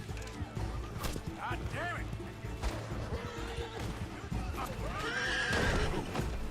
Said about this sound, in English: That's a dead horse. I just killed my horse.